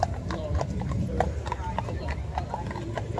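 Mounted police horses walking through a horse park during a car show, hooves clip-clopping in a steady uneven rhythm close by, with people talking over them.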